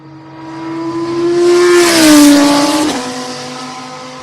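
A blue Benetton Formula One car screams past on a wet circuit, its high engine note swelling, dropping in pitch at the loud close pass, then receding into the distance without any talk.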